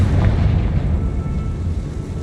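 A deep, rumbling blast from the Confringo spell in the video game Hogwarts Legacy, a heavy low boom that swells and then slowly decays, loud and without speech.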